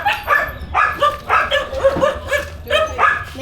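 Stray dogs on a city street bark and yip in a steady loud series of close, repeated barks, with a whimpering edge to some calls.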